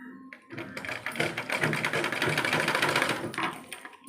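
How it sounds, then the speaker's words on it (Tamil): A sewing machine stitches a blouse neckline straight without folding, a steady fast rattling run of needle strokes lasting several seconds, close and fairly loud. "நான் மடக்காமல் அப்படியே நேராக அப்படியே தைச்சிட்டே வரேன்."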